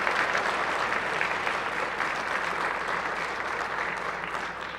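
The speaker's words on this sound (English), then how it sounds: "Please give them a round of applause." A room full of people applauds on the Senate floor for a judge's family, dense, even clapping holding steady throughout and easing slightly toward the end.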